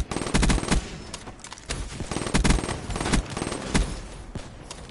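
Loud bursts of automatic gunfire from the video game Black Ops 3, rapid clustered volleys with brief pauses between them, close and punchy, no talking over them.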